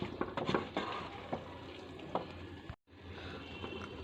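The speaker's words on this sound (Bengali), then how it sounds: "এবার আমি এটাকে ভালো করে কষিয়ে নেব" Egg curry masala for a dhaba-style egg tarka is stirred and fried in a pan, giving close scraping strokes, light clatter and a soft sizzle in irregular bursts, briefly cut off by a gap.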